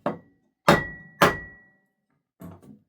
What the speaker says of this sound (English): Sometimes if you bang it, it'll want to come off.